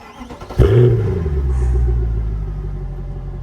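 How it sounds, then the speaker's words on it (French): The 6.2-litre V8 of a warm Mercedes C63 AMG W204 cranks and fires, then revs once with a deep burst before settling into a loud, rumbling idle nearby. "On va entendre ce fameux bruit mythique du V8 6 litres 2."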